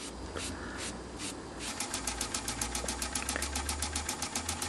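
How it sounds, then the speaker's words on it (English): Small doll toy steam engine with chimney, whistle and burner, running steadily on test, a fast, even mechanical chuffing and ticking that quickens slightly, close up with a low hum beneath. "Lovely little engine this."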